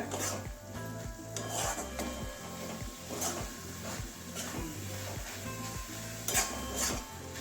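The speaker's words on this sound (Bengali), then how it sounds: "এখনো আর একটু নাড়াতে হবে আমাকে" A spoon stirs a thick carrot laddu mixture cooking with ghee in a pan, making steady rhythmic scraping strokes about twice a second, close and moderately loud.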